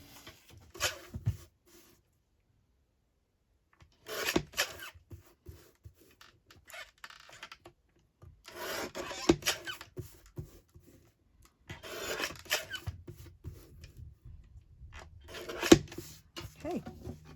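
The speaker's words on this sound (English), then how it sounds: "I might just grab my little trimmer and just trim it a little bit better." A small paper trimmer cuts along the edge of a collaged postcard in several separate bursts of close scraping and rasping slides, with quiet pauses between strokes.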